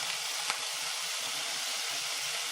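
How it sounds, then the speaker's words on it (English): Chicken for a Caesar salad sizzles in a frying pan, a loud, steady, close crackling hiss, with a low voice murmuring underneath. "Hopefully you can hear me over the sizzle"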